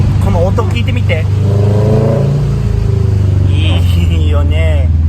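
A modified car's engine revs and drones steadily while driving through a tunnel, loud and continuous, with voices talking over it throughout.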